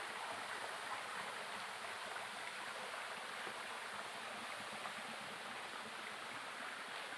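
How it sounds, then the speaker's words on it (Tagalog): A waterfall roars as a constant, even wash of falling water, close and loud and unbroken for the whole stretch, with no talk over it. "Yan ang falls mga katiits."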